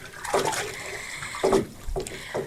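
Liquid nutrient being stirred into water for a tomato gutter grow, giving a few soft sloshing, swirling splashes in quick succession at close range, with no talking.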